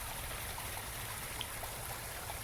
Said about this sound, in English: It's almost just a trickle now